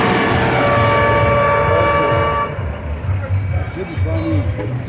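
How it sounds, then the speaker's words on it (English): A truck rolls by on a town street, its engine rumbling loud and close with a hiss like an air brake before it fades, while people talk over it. "I hear another truck coming."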